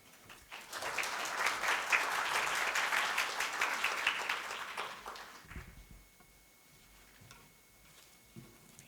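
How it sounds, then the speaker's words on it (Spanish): A conference audience at a civil law symposium applauds a professor taking the stage, a steady crowd clapping for about five seconds that then fades into quiet room noise with a few faint sounds. "Pues bien, profesor, adelante y un aplauso para él."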